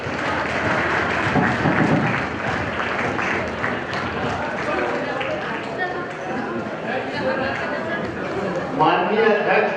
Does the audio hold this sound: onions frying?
no